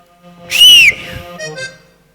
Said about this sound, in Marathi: तुम्ही शिटी वाजवा